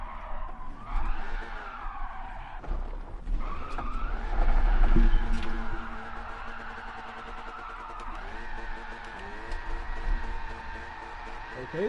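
A car drifts on a new track in Gran Turismo 7, played with a G29 wheel and shifter: sustained loud tire squeal wails and shifts pitch over a revving engine, swelling and easing through long slides.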